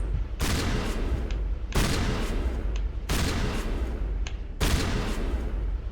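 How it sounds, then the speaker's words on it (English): Four long bursts of rapid gunfire in the video game Mass Effect, each starting abruptly, loud and close, with almost no pause between them. "So you're hearing the gunfire?"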